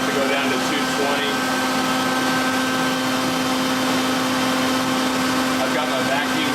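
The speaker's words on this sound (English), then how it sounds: "I've got my vacuum set up so that it keeps the area more clean" Shop vacuum running beside a belt sharpening setup, a steady loud drone with a constant hum, continuous from start to finish.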